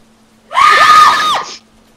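A ghost in the video game Phasmophobia lets out a single loud, shrill scream lasting about a second, bending in pitch before stopping abruptly over a low steady hum.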